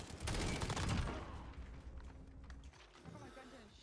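Video game FAL rifle fired in burst mode, a dense, loud volley of rapid shots at the start that decays into lingering reverberation and quieter game noise.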